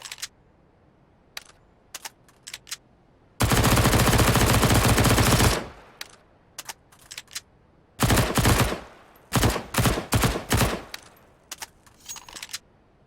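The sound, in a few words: MP9 submachine gun firing, new sound, Counter-Strike: Global Offensive video game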